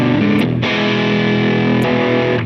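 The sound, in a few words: electric guitar through Ruby UAFX AC30-style amp pedal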